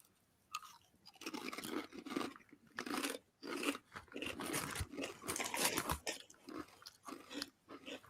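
Guinness chilli crisps being munched close up, with steady repeated crunching and chewing over several seconds, loud and continuous with brief pauses, no talking.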